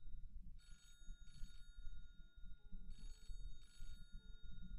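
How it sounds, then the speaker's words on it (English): Early 20th-century telephone ringing inside the Titanic Escape Simulator game: two bursts of bright bell rings, each a pair of rapid trills, over a steady low rumble of background noise. "Oh, it's the phone."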